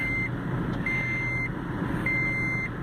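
A taxi's warning chime sounds in long, steady high beeps, three of them, over a constant low engine hum.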